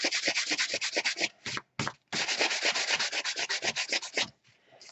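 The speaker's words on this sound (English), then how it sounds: "I don't want it to be loose, so that's why I'm sanding it down" Sandpaper rubbing steadily against a paper craft album piece, a close, continuous scratchy back-and-forth sanding with fast strokes, two short pauses, and no talking.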